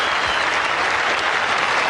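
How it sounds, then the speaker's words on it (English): A Test cricket crowd applauding a batsman's century, a dense, steady wash of clapping and cheering that holds for the whole stretch without voices over it. "the crowd get on their feet and cheer his innings"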